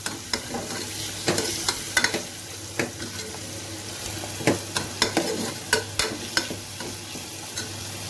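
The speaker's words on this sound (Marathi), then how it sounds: "कांदा चांगला आपल्याला ब्राऊन करायचं आहे." Onions fry in oil while being stirred until brown for chole masala, a continuous close sizzle punctuated by sharp, irregular clanks and scrapes of a spoon against the pan, with no speech.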